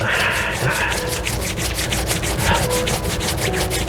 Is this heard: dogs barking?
no